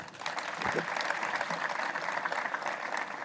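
A crowd applauds teaching staff at a school awards ceremony, a dense wash of clapping hands from a large audience with faint voices beneath.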